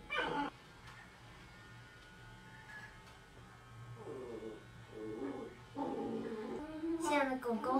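A dog getting its coat trimmed at home gives short whimpering and whining cries in several bursts, rising into a higher yelping call at the end, with an electric clipper buzzing and a person talking in between.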